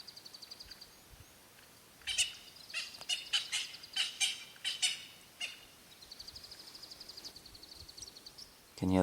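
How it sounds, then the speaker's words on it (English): A francolin gives a rapid series of harsh alarm calls in the African bush, with other small birds chirping around it. "can hear the franklin's alarm calling at him"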